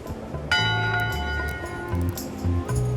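A single ship's bell rings out clearly in the pirate game Return to Monkey Island, its bright metallic tone sustaining and slowly decaying over low background music.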